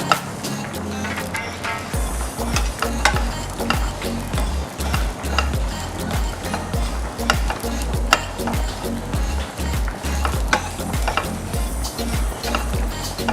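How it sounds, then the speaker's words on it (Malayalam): Onion, curry leaves and garlic fry in a pan for a Kerala-style kappa biriyani, with continuous sizzling and repeated scraping, knocking strokes of a spoon stirring, close and steady throughout. "ഇനി നമുക്ക് അതിലേക്ക് കുറച്ച് സവോള ഇട്ട് കൊടുക്കാം. കറിവേപ്പിലയും വെളുത്തുള്ളിയും ഇട്ട് കൊടുക്കാം. നന്നായിട്ടൊന്ന് ഫ്രൈ ചെയ്തെടുക്കാം."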